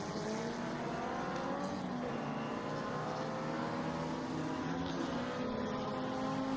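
Irish Supercars on a racing circuit, engine drone steady and fairly distant, layered with several cars at once and no talk over it.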